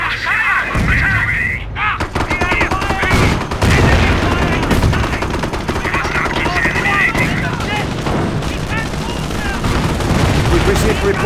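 Gunfire at the manor in Company of Heroes: loud, sustained rifle and machine-gun volleys crackle with occasional booms, under intermittent voiced unit chatter.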